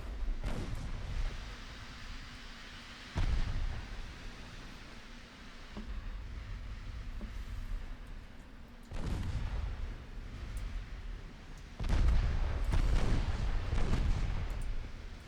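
Naval gunfire from warships finishing off a small destroyer in the Ultimate Admiral Dreadnoughts game: heavy booming salvos at irregular intervals, some in quick clusters, over a constant hissing background, with no voices.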